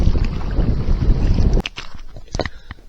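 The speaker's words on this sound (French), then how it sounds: "Puis il y a du vent." Strong wind buffets a kayak on a river on the Dordogne, a loud gusty roar that suddenly drops away, leaving faint scattered knocks and splashes.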